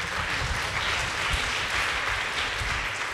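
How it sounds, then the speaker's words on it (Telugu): A church congregation claps together, a dense continuous patter of many hands at moderate distance, steady for a few seconds with no voices over it. "అన్నవాళ్ళు చప్పట్లు కొట్టండి"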